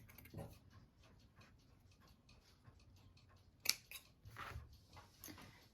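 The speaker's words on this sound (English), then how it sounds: "I just pretty much just fold it in half, like at a diagonal, and cut it out" Scissors cutting through folded fabric to shape a craft turkey glove's beak, giving a few quiet snips and one sharp close clip partway through, with soft handling noise and no talking.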